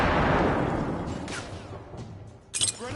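A grenade blast in the video game The Order 1886: a loud broadband burst that decays over a second, then scattered debris clinks and a sharp second crack near the end.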